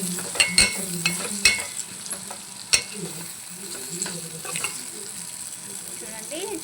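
Carrot curry bubbles and sizzles in a pan, with a steady fry hiss under occasional clinks and scrapes of a stirring spoon, close and moderately loud.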